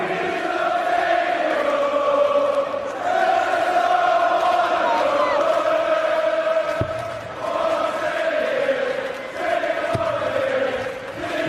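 A large crowd at a Champions League darts final in Cardiff sings loudly and continuously, a sustained chant with rising and falling phrases filling the arena.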